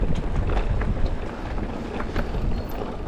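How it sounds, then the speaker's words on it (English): Wind blows with heavy, buffeting rumble against the microphone, a steady roar with gusty swells and no clear other sounds. "the wind's getting up, that's why trees are bending."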